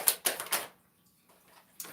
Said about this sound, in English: let's get one more good shuffle in